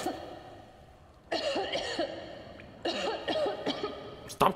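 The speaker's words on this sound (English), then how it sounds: "Stop coughing! You're making too much sound!" Several bursts of coughing and throat clearing in the video game Metro Exodus, fairly faint, in clusters separated by short quiet stretches over low background noise.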